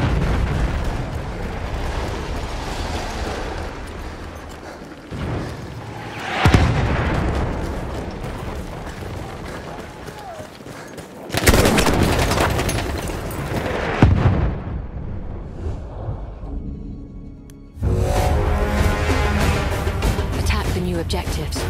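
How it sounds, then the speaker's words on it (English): Enemy artillery barrage in the video game Battlefield 1, with repeated heavy booming explosions and bursts of gunfire layered over dense battle noise, loud and close, while a voice speaks at times. "Wait for the enemy artillery barrage to stop firing."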